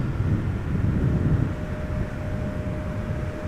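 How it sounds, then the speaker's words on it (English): KLM Embraer 175 jet arriving at Schiphol, a moderate engine rumble with a faint steady tone that eases slightly after the first second and a half, no voices. "This is KLM flight 1710 arriving from Luxembourg."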